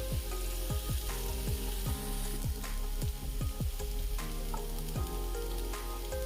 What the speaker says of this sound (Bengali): মাশরুমগুলোকে ফ্রাই করব যতক্ষণ তেল আলাদা না হয়